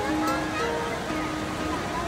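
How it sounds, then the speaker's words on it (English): Roaring rush of a tall waterfall with a big drop, heard up close on a hike as a steady broadband wash that holds without a break, with voices faintly mixed in. "it is spectacular just being this close to these awesome waterfalls and the big drop"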